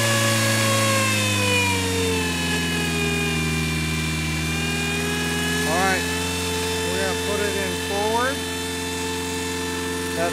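A remote controlled 8x8 Mudd-Ox runs its engine in a steady, buzzy drone whose pitch slides lower and settles, with a voice talking over it.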